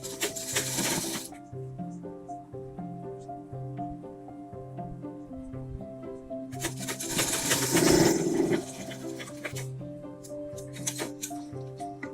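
A sewing machine stitches a lined designer blouse in two main bursts of rapid mechanical whirring with a brief third run, separated by quieter pauses over a steady tonal background.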